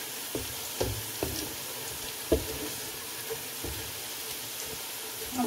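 Onions browning in hot oil for chicken pulao, a steady close sizzle broken by several soft knocks and stirring bumps as a bay leaf goes into the pan.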